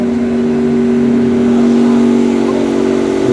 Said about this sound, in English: The Aston Martin Valiant coming out.